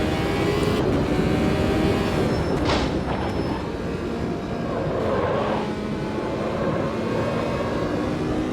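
An F1 Gen 02 car in the Automobilista 2 racing game at Jacarepagua sweeps through a left-hand corner, its engine a loud, sustained roar whose pitch dips and climbs with the throttle.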